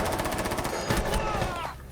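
Rapid automatic gunfire from the shooter game Rainbow Six Siege, a dense close burst of shots that keeps up for about two seconds before cutting off, with faint game sounds behind it.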